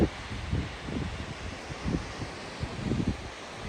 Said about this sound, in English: the wind from up here is insane